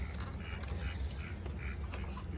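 A duck quacks several times in quick succession during a family camping trip, the calls faint and somewhat distant over a steady low outdoor background.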